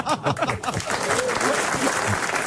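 Short burst of TV studio audience applause mixed with some laughter and chatter, starting with a few scattered claps and filling in briefly.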